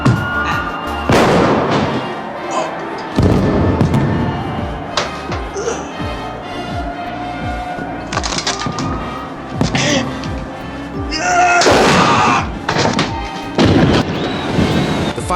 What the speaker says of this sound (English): Fireworks on the street roar in sync with Vito's move